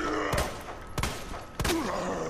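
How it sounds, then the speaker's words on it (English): Gunshots in the Resident Evil 2 Remake demo, three sharp, loud shots spaced roughly half a second apart, close and punchy over a low background hum. "Oh yeah, you see them shots."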